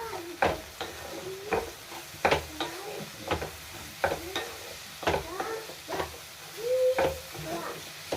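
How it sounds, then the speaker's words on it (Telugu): Ivy gourd frying in a pan as turmeric and coriander powder are stirred in, giving repeated close scraping strokes of a spoon against the pan over a soft sizzle, with no talking. "పసుపు కొంచెం ధనియాల పొడి వేసుకుంటున్నాను దీన్ని బాగా కలుపుకుంటాను"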